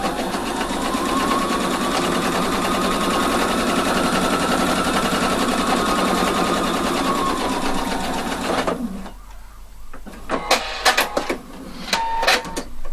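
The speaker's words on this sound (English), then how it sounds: "And then I start stitching just 1/2 centimetre to put everything together." A sewing machine runs steadily for about nine seconds, stitching a half-centimetre French seam, with a loud continuous whirring drone. Fabric handling and light clicks follow once it stops.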